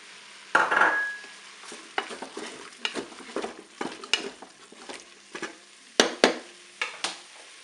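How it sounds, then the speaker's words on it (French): Onions sauté in a Cookeo multicooker pot, with a soft sizzle under frequent scraping stirs and knocks of a utensil against the pot, close and moderately loud, no speech. "Je vais maintenant ajouter mes oignons."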